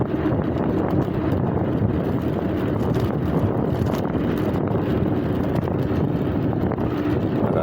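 Heavy, continuous wind buffeting the microphone during an uphill TST F8 Max scooter ride, a loud, steady roar with no break.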